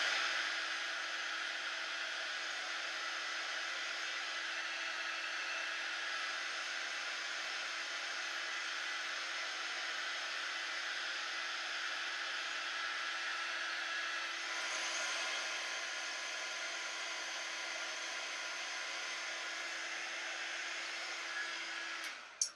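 A hair dryer blows steadily on wet paint on a hand-painted pumpkin patch sign, a loud continuous whir held for over twenty seconds with a slight shift in tone partway through before clicking off.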